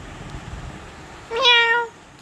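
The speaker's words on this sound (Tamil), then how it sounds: "யாரும் இல்லை, பூனை தான் இருக்குது." A single meow from a cat in the Roblox game Color or Die rings out clearly, one short rising-falling call that lasts about half a second over a quiet background.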